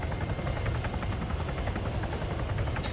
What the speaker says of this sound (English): Yep, and there's another helicopter.